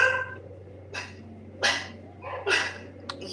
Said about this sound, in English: Sounds like you have a dog.